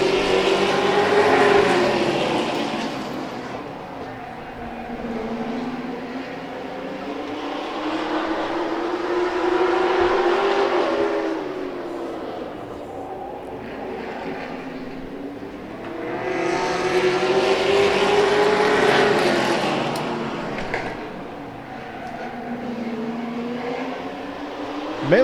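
Race cars at a Hobbyfest feature race on a speedway track howl past in repeated waves, engine pitch rising and falling as each pack sweeps by, loud and continuous with no talk.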